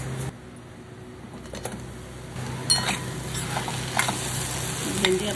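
Okra curry is stir-fried in an uncovered pan, giving a steady sizzle with repeated spatula scrapes and light clinks that grow livelier after the first couple of seconds.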